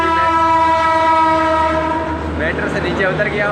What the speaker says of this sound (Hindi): और ये है समयपुर बादली का जो कि ट्रेन जा रही है